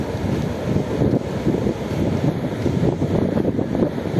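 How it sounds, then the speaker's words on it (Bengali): Strong wind on the beach at Mandarmani buffets the microphone in heavy, rumbling gusts, with the wash of the sea underneath. "প্রচুর হাওয়া দিচ্ছে"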